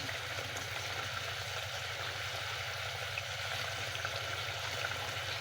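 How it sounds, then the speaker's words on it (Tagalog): A thick sauce bubbles at a steady boil in a cooking pot before shrimp go in, a continuous close simmering burble with low rumble and no talk. "ito kulong-kulo na medyo malapot na malapot na siya"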